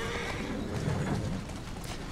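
Horse neighing in the Assassin's Creed Syndicate video game, a brief whinny over a steady dense background of hoof clatter and street noise, with no talk.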